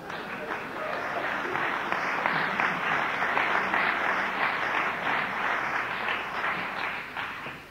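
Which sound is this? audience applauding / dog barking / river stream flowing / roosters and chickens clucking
audience applauding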